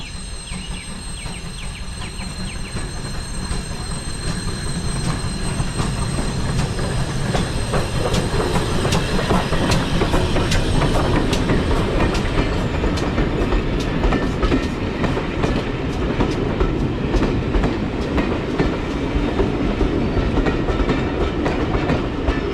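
A Gresley steam locomotive hauls its train along the West Somerset line between Minehead and Bishop's Lydeard. There is a steady, loud run of rail clatter and rolling wheels, building over the first seconds and holding on, with no voices.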